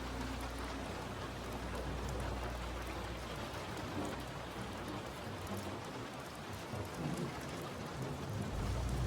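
Steady heavy rain pours down with low rolling thunder rumbling beneath, a continuous dense wash of sound throughout with no voices.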